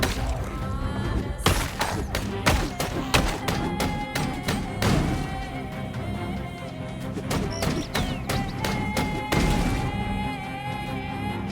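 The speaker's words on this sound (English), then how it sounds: "Mopping up the scraps with my fire axe" Repeated heavy thuds and crunching hits of a fire axe striking zombies in Project Zomboid, a steady run of blows over a constant game background, close and punchy.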